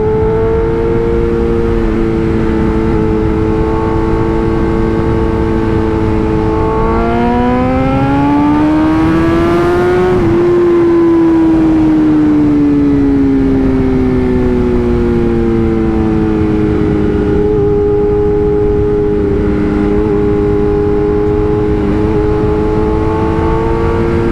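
Revving BMW M 1000 RR or Honda CBR 1000RR-R Fireblade SP superbike engine, a loud steady harmonic drone that climbs sharply in pitch around mid-clip, then gradually eases back down and holds a high idle-like tone.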